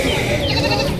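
Goats bleat at a crowded rural goat and ram market in Tangail, Bangladesh, a brief burst of overlapping nearby calls against busy crowd noise.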